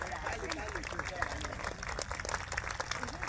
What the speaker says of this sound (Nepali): ताली कन्टिन्यू बज्न पर्यो